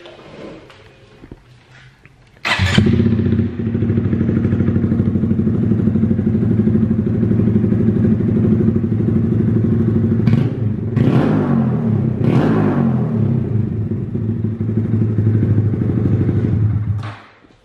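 A 2020 Honda Grom motorcycle fitted with an aftermarket exhaust fires up after a quiet start, settling into a loud, steady idle broken by several sharp throttle blips and revs before cutting off.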